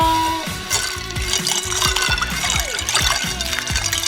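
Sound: noodles rinsed under an ice water shower

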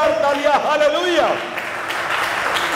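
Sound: congregation applauding loudly

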